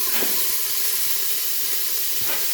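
Chopped onion hits a hot pan and sizzles, a steady close hiss of frying with a couple of brief stirring scrapes.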